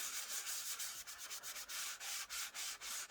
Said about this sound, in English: So let me sand it some more.